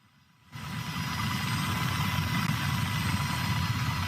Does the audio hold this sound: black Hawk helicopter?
yes